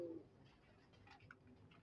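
Faint low cooing of pigeons in a fancier's loft, brief soft calls over a quiet background with a short brighter note at the start.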